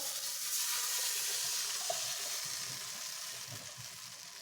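Water is poured into a hot pan of browned meat, giving a steady, moderately quiet hiss and sizzle that holds evenly for several seconds with no voices.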